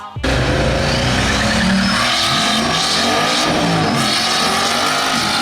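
A Corvette C8 and a Mercury Marauder race side by side, with a loud, sustained engine roar and rising revs after a brief start, close and continuous throughout.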